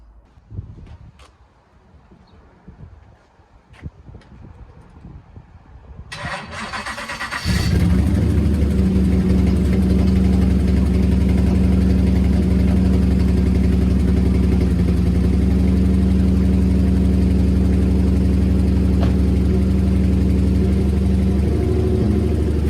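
A Ford Focus fitted with a twin-turbo V8 and a custom stainless steel exhaust cranks and fires up, then settles into a loud, steady, deep idle that continues for about fifteen seconds.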